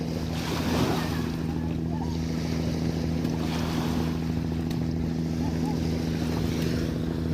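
Small river waves on the Meghna slap against a boat in a steady wash of water and wind noise, with an engine hum droning underneath throughout and a voice faintly present.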